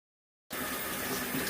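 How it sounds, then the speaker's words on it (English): After a moment of silence, water suddenly gushes in a steady, rushing pour into an X-ray processor tank, filling the rest of the clip. "Start filling up with water, and then add the fixer."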